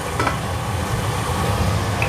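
Steady, dense sizzling and crackling of fish frying in hot oil, continuous and close, with no voices.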